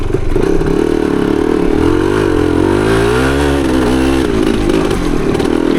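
A 1975 Yamaha DT250 trail motorcycle revs loudly and close by while being ridden. The two-stroke engine note climbs and falls in smooth sweeps and stays strong throughout, with no talking.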